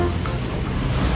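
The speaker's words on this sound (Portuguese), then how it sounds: "Ele abre o teto e aí chove e cai água aqui" Steady rushing water pouring down indoors through an opened ceiling in a house, a dense continuous wash that stays loud and unbroken, with no talk.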